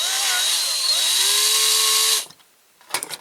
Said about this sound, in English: Drill a little piece out.